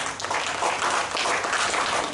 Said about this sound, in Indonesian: tepukan untuk diri sendiri